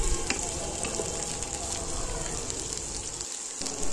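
Carrots and green beans fry in hot oil for Bengali-style fried rice, giving a loud, continuous sizzle with faint crackles and occasional stirring scrapes throughout.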